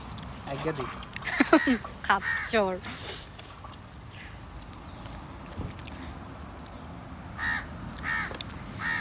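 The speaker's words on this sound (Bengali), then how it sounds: "চিলি চিলি উপরে কাক ডাকতাছে খালিদ বাউ" Crow cawing overhead at a seaside spot, a few harsh calls in short bursts early on and again near the end, under people chatting nearby.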